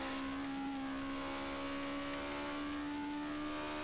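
A car engine in the game Street Legal Racing Redline drones at steady high revs, a sustained buzzing whine with layered harmonics and no pauses.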